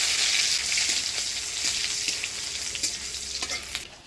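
Crushed garlic and black cumin seeds fry in hot oil for greens, a loud, continuous close sizzle with faint stirring scrapes.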